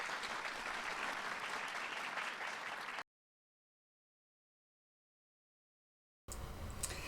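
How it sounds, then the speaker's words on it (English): A crowd claps steadily for about three seconds, then everything drops to dead silence for several seconds before the applause cuts back in at the same even level. "listening to the clapping on and on and on and on"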